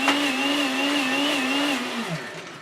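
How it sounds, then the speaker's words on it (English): A small-carafe vacuum blender whirs at a high, steady motor pitch that holds constant, then winds down sharply near the end as blending finishes; no voices. "It's already done blending in the fraction of a time."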